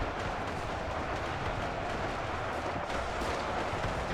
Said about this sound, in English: And it is a hail of gunfire.